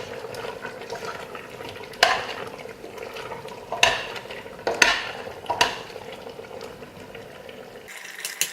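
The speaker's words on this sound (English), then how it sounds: "So we'll give it a stir." A utensil scrapes and clanks around a pot of boiling chicken curry a few times over a low bubbling simmer, close and fairly quiet, with no talking.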